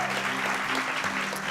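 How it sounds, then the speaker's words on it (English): Applause from the crowd at a live podcast show at ScoopFest 2017, thick, continuous clapping for the hosts with a low murmur of voices underneath. "Applaud for the people who are hosting us."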